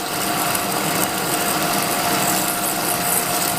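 A 1K62 lathe parting off a pipe with a cutting tool, giving a steady loud whirring machine drone with a faint high whine that holds unchanged for several seconds, no talking.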